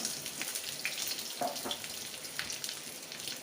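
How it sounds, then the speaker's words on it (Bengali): Potatoes frying in mustard oil crackle with a steady, moderately loud sizzle, bright popping spattering throughout without pause. "দেখো লাল লাল করে আমি আলুটা ভেজে নেব সুন্দরভাবে।"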